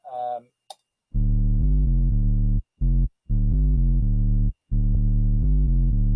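A deep synthesized bass line, made in Ableton, plays alone in sustained, choppy notes with brief gaps between phrases, following a short high chirp at the start.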